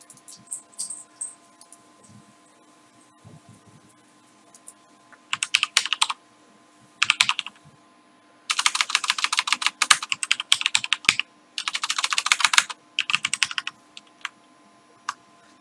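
Bursts of fast typing on a computer keyboard, close and crisp, coming in irregular clusters separated by short pauses, with quiet stretches between runs of keystrokes.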